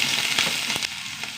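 Dried red chillies fry in hot oil, a steady crackling sizzle with a few sharper pops and spits, close by and with no talk.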